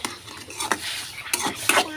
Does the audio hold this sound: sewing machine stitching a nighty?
no